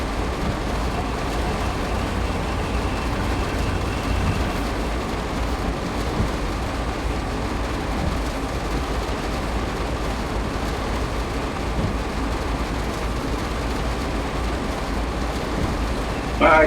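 A train in Train Sim World 4 climbs the long grade out of Cheyenne with a steady, heavy rumble and drone of engines that continues unbroken throughout, loud and close.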